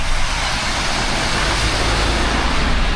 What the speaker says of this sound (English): Avoiding the bus spraying me.